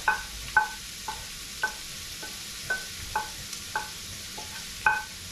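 Onion and ginger sizzle softly in a pan for laing while a utensil scrapes and taps in a regular rhythm, about two strokes a second; close, with no voices.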